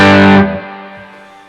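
Distorted electric guitar played through a Bluguitar Amp1 with a Headrush unit: one loud, thick chord rings out, then cuts off sharply and leaves a fading tail of sustain.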